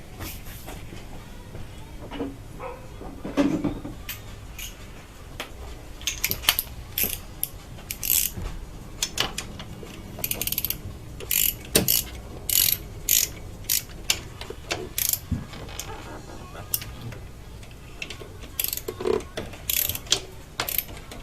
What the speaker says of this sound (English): I'm gonna hand tighten that rail down.